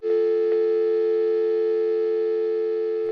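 A telephone line goes dead, leaving a steady electronic tone that holds loud and unbroken for about three seconds before cutting off abruptly.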